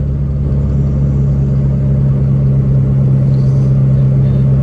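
Turbocharged D16 Honda Civic engine heard from inside while driving home, with a freshly rebuilt transmission; a loud, steady low drone and rumble that holds an even pitch throughout, with no voices.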